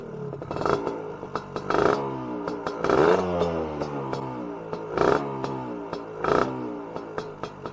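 A Casa Performance SST265 motorcycle engine idles close by just after starting, a fast rough pulsing with periodic louder revs and mechanical clatter, no voices over it.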